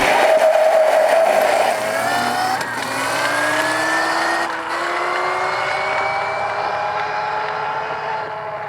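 Denzel Rush 4 electric motorcycle launching in second gear without the clutch: a rising electric motor whine sweeps upward in pitch over several seconds, close and fairly loud with no voices.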